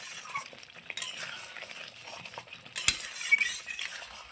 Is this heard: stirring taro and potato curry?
yes